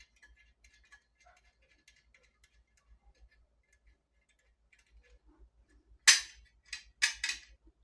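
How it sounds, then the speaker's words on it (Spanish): Screw being removed from a TV antenna: faint, steady ticking of a turning screwdriver for several seconds, then a few sharp, louder metallic clicks and rattles near the end, close by. "y aquí quitamos este tornillo"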